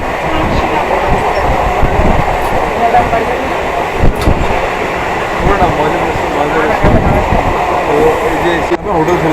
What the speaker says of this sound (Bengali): বিকেল 3:52 কল্যাণী সীমান্ত লোকাল 1 নম্বরে এসে গেল।